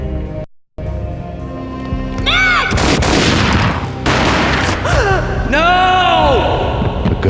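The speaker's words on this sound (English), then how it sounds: "A gunshot boomed and she fell down in slow motion." A gunshot booms out in the Max Payne video game, a sharp burst amid swooping game effects, while a voice cries out nearby.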